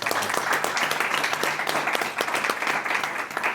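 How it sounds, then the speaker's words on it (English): Audience applause fills a select board meeting in Southwick, a steady dense patter of many hands clapping close by, sustained evenly throughout with no talk over it. "So if we can have a round of applause for Mrs. Murphy."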